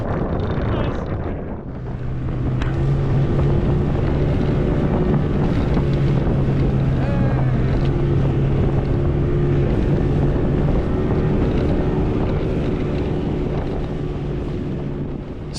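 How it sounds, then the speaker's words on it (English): A boat's outboard motor runs steadily at sea in Balinese tidal waters, a loud droning hum with a constant pitch that lasts throughout, mixed with wind buffeting the microphone and water noise. "So thankful and happy having my outboard running again"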